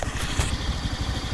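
First-generation Honda Beat FI scooter engine with a rough starter, running with a steady low rumble and light mechanical clatter, close up and alone.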